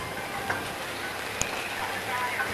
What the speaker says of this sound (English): It's pissing down with rain now. Quite heavy.